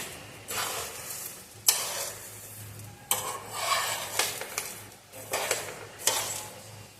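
Whole spices for garam masala being stirred and roasted in a pan, with repeated gritty scraping sweeps and soft rattling bursts, a few sustained strokes separated by short pauses, close and moderately loud.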